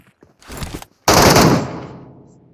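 Gunfire from a PUBG Metro Royale match: a short rattling burst of automatic shots, a brief silence, then a loud sustained volley that slowly fades out.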